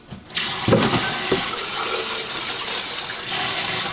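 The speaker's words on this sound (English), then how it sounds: "And another little shot of water in there." Water is poured into a pressure cooker holding pasta sauce for pasta shells and sausage: a short splash onset, then a steady stream of pouring that runs close and continuous until the end.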